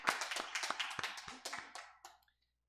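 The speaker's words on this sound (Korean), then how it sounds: "하나님께 영광의 박수를 드리겠습니다." A church congregation at a Korean Full Gospel Sunday service claps briefly, a short burst of quiet, irregular individual claps that thins out and stops after about two seconds.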